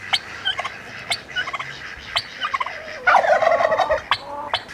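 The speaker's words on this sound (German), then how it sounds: "Hier kommt der Vater, der Puter." A male turkey on a self-sufficiency garden farm gobbles in several rapid, rattling bursts, close and fairly loud, with short pauses between calls.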